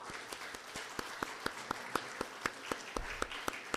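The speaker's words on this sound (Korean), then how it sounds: "우리 또 다시 웰컴 백 하면서 우리 환영의 박수 한번 쳐줄까요?" Audience clapping to welcome a speaker back at a Korean church gathering, heard as a steady rhythm of sharp, evenly spaced claps, fairly quiet and roomy, with no voices over it.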